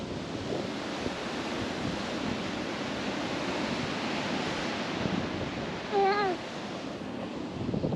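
Ocean surf and wind on a beach by a lighthouse where people are surfing: a steady, full roar of breaking waves and gusting wind that fills the whole stretch, with a brief chirp near the end.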